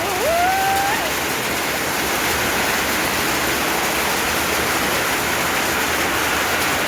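Hail and rain pour down in a constant, loud, close hiss; a brief thin whistle rises near the start.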